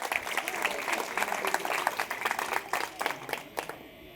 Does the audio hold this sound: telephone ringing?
no